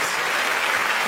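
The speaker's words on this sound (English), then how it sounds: "Everybody. Round of applause." A studio audience breaks into a round of applause on a car show, a brief dense burst of clapping filling the room, close and even, with no talk over it.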